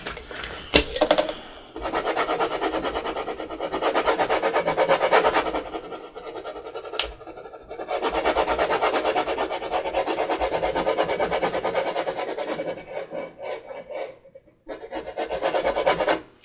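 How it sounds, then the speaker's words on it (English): Glue being applied in a line onto file-folder paper during a craft project, heard as repeated rasping, scraping strokes in several bursts separated by short pauses, close and fairly loud. "let me make a glue line here so that I don't have to put it on the back of the paper"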